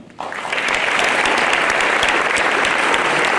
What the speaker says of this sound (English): Now you can clap.